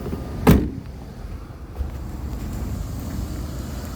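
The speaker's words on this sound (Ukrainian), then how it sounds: "Робота мотора" A 2008 Opel Zafira 1.8 gas/petrol engine with 228,000 km, idling under the open hood; after one brief sharp knock at the start, a low, steady mechanical hum continues evenly.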